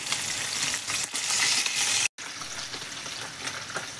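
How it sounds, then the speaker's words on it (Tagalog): Food fries in a pan in a kitchen in Japan with a continuous close sizzle and crackle, briefly broken by a short gap before resuming. "Pagprito na ako."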